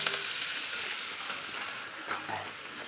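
Meat fries and is stirred for kosha in a hot pan, a dense close sizzle with a few soft scraping and stirring knocks, steady and without talk.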